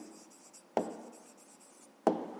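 Pen scratching on paper while writing an answer by hand, soft continuous scribbling broken by two sharper taps, close and quiet.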